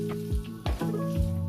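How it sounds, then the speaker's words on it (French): Chicken with vegetables, mushrooms and olives for a chicken-spinach quiche filling sizzles steadily in a pan, a continuous close frying hiss broken by a few sharp clinks of a utensil against the pan. "Je laisse mijoter encore quelques minutes avant de rajouter la crème"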